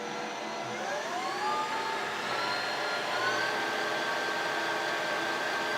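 A Precision Matthews PM 1440 HVT-2 lathe spindle spins at its top speed of about 2240 RPM, a steady whining hum with a rising tone that settles into a constant, moderately loud drone, with no talking.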